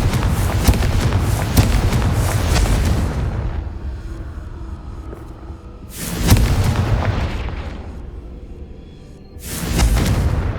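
Confringo fire spells explode in Hogwarts Legacy, three heavy, deep booms with rumbling tails, each separated by a few seconds of quieter ambience.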